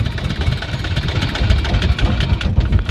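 A boat engine idles as the boat reaches a river char on the Padma, a loud, close, steady low rumble with a rough throbbing texture and no pauses.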